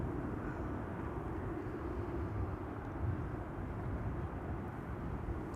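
A KLM Boeing 777-300 bound for Mumbai rolls at Amsterdam Schiphol Airport, its jet engines producing a steady, broad rumbling roar heard from a distance with no clear change in level.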